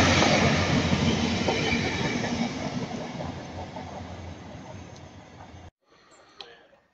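A Great Western Railway passenger train rumbles into Taunton or St Austell station loudly with a broad roar and clattering wheels, slowly easing off, then cuts to a quieter platform with faint squeals.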